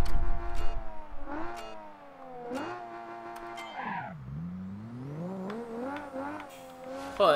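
A car engine in the BeamNG.drive driving game, using its new engine sound, revs and climbs in pitch through repeated accelerations and gear changes. The engine is loud, close and continuous, with no talk over it.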